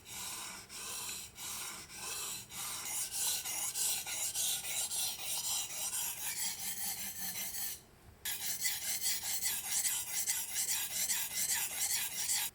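A knife is sharpened on a sharpening stone in repeated close, gritty back-and-forth rasping strokes, rhythmic at first and then nearly continuous, with a brief pause before the scraping resumes.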